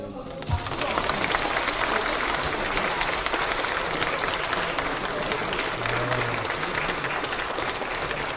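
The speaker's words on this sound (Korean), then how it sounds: "여러분 모두 박수" Sustained applause from a crowd at a party caucus meeting, dense clapping that carries steadily from start to finish.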